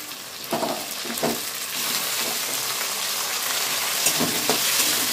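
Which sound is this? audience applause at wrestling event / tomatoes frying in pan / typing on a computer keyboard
tomatoes frying in pan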